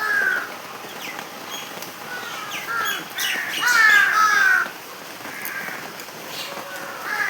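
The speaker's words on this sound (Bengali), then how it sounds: "সব পাখিগুলো বৃষ্টিতে ভিজে গেছে।" Rain-soaked birds being fed call out in harsh, crow-like caws, several overlapping bursts rising and falling in loudness, with no talk.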